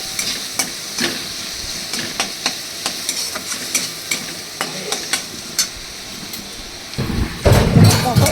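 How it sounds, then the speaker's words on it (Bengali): Ginger and garlic paste frying in a pan for butter paneer, a steady sizzle broken by regular scraping strokes of a spoon stirring it, close and fairly loud, with a burst of louder sizzle near the end. "আদা আর রসুন বাটা দিয়ে দিলাম 1 চামচ।"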